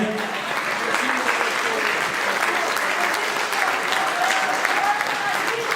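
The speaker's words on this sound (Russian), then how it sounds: "Громче, громче аплодисменты!" An audience at a faculty day for Crimean Tatar and Oriental Philology at the Taurida Academy applauds, a loud, sustained, even roar of many hands throughout, with voices mixed in.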